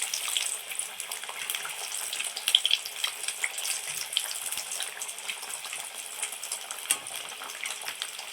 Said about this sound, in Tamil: இப்போ எண்ணெய் நல்லா காஞ்சிடுச்சு. சிம்மில் வச்சுட்டு நம்ம ஒன்று ஒன்றா இதில் சேர்த்துடலாம்.